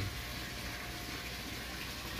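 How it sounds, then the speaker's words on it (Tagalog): Water runs steadily through the recirculating filtration system of a tilapia biofloc tank, a constant faint gushing rush with no breaks or voices. "Ito yung kanyang mga tubig sa filtration."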